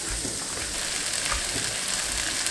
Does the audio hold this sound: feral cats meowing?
no